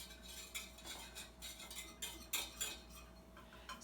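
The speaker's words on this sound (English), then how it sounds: "I'm now just stirring, and that gets fairly thick" A roux of butter and flour with ham stirred in a pan, faint soft scraping and light metallic clinks of a utensil repeating in an uneven rhythm, quiet and close, with no speech.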